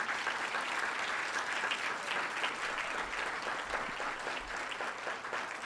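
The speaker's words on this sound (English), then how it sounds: "let's give a big round of applause to all of them" An audience at an honorees' celebration claps steadily for the media team, a continuous, even roar of many hands that stays at one level without voices standing out.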